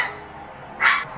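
A single short dog bark pops out once near the end, fairly faint and somewhat distant against a quiet background.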